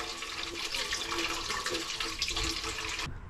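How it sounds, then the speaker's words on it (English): Water runs steadily from a tap, a close splashing rush that cuts off abruptly near the end. "We have water! Running water!"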